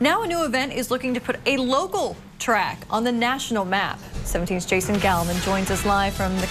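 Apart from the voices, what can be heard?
No distinct noise like a dog, phone or traffic.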